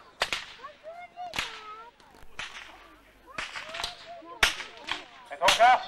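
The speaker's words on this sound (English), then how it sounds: "The sound of the whip kept gather the herd." A Hungarian csikós horseman cracks a herding whip at an outdoor show, about seven sharp, loud snaps at irregular intervals, with voices and crowd murmur between the cracks.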